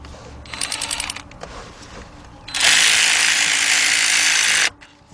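A ratchet working a spark plug on a 2004 Ford Expedition 4.6 V8 gives a short run of quick clicks, then a loud, sustained whirring buzz for about two seconds before stopping.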